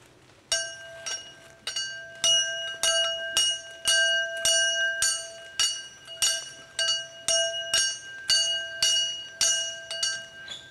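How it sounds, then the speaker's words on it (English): A hand bell rings repeatedly in a steady rhythm, about fifteen bright, clear strikes, each ringing out briefly before the next. "We will ring another bell at dinner."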